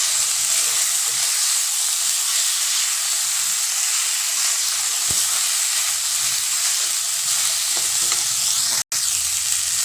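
Tomatoes frying in a pan while being stirred into masala khichdi with vegetables, giving a loud, constant sizzling hiss with soft stirring scrapes and one brief break near the end.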